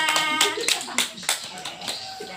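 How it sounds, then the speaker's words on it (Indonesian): Students applaud group 2 in a classroom, a short burst of mixed clapping with a few sharper claps standing out and faint children's voices underneath. "Berikan aplaus kepada kelompok 2."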